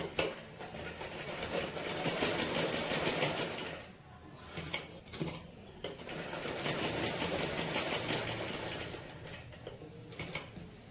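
A sewing machine stitching three-layer embroidery, running in two long bursts of fast, even mechanical whirring with a pause and a few short stitches between them, close by and alone.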